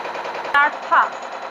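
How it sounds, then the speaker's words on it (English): A diesel injection pump spins on an electronic system test bench, giving a steady close mechanical whir with two short, sharper tonal bursts partway through. "Start pump."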